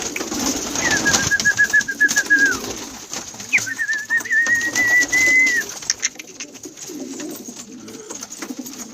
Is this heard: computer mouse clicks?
no